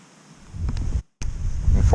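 Wind gusts buffet the microphone outdoors during a deer hunt, a loud rumbling rush that swells, cuts out briefly and returns even stronger.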